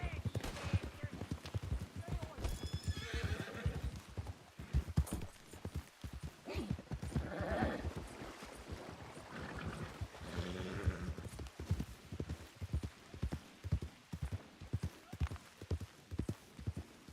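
In a video game, a horse clip-clops along a road, its hooves pattering rhythmically with occasional neighs, while scattered gunfire cracks and voices murmur faintly underneath.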